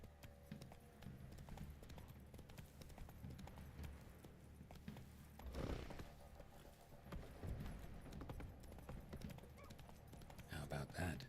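The horse Roach trots in the video game The Witcher 3, its hooves clip-clopping in a steady rhythm close by, mixed with game ambience and spoken voices, with a brief louder burst midway and near the end.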